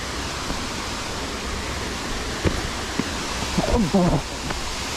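A steady broadband rush of falling water at Chelavara waterfall fills the clip, constant and fairly loud, with a few brief knocks and a short faint voice-like sound near the end.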